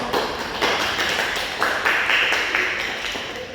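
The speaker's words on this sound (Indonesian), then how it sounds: "berikan tepuk tangan untuk hasil diskusi yang telah kelompok 2 lakukan" Classroom applause for a student discussion group, a small group of students clapping with uneven, sharp, tappy claps close by, sustained for a few seconds.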